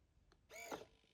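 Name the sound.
servo motor closing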